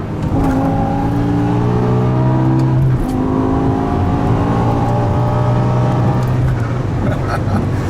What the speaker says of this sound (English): we're gonna try a little acceleration run here.